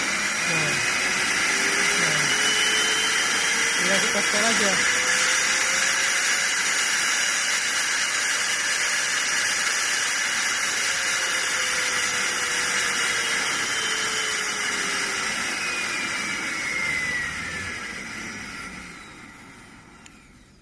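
Multipro ESP99HP electric spray gun motor slowed by a dimmer gives a steady whirring hiss, its pitch gliding gently down and back up, loud and close throughout, then fading toward the end with a brief spoken remark early on.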